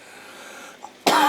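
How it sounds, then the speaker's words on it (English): A single sharp hacking cough from a person with a nasty cold and sore throat, bursting loud and close after near silence with a faint throat sound just before. "I have to excuse my cough"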